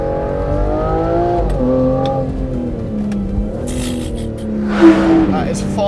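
A 2025 Aston Martin Vanquish V12 engine revs and roars close by, its pitch rising and falling, with a voice talking over it.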